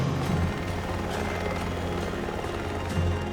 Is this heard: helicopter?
yes